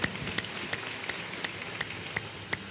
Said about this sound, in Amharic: አጨብጭቡ ለእግዚአብሔር ክብር